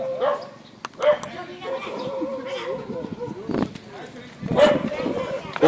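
A dog gives short yips and barks among several people chatting nearby at the abandoned Taman Festival Bali park, the barks brief and intermittent under the conversation.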